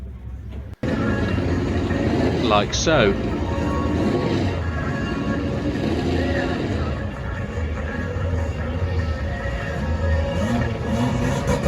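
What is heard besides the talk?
burnout drag cars revving engines at motorsports park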